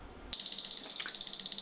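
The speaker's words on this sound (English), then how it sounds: "There goes our timer." A kitchen timer goes off while gluten-free whole grain bread is being made, giving a loud, steady electronic beeping that starts abruptly and pulses on and off close by.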